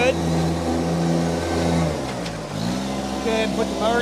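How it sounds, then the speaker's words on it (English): A 2017 Kubota BX1870 compact four-wheel-drive tractor with mower deck runs steadily nearby, a constant low droning engine hum with a slight dip and rise in pitch partway through. "Very good running, working tractor."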